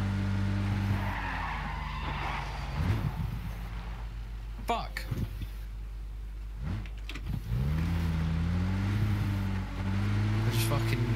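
Car skids and tires squeal in the battle royale game PUBG, the engine revving and rising in pitch as the vehicle drives, close and loud under players talking.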